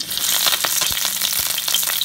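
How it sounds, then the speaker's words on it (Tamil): Onions and tamarind dropped into hot oil for stir-fried beans sizzle and crackle loudly and steadily at close range, with a few stirring clicks. "எண்ணெய் சூடானோடனே கருப்புளியும் வெங்காயத்தையும் போட்டுருங்க."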